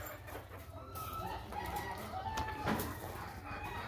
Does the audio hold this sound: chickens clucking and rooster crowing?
yes